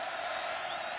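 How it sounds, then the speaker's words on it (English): Football stadium crowd at a West Virginia versus LSU college game roaring and rising to its feet, a dense, steady wall of cheering that stays loud and unbroken throughout. "Crowd coming to their feet."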